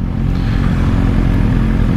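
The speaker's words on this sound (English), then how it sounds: "But I can't help the noise of my bike." A loud motorcycle with a defective exhaust baffle that has fallen out rumbles close by, giving a harsh, rough, steady engine roar.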